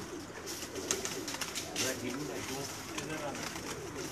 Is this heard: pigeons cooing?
yes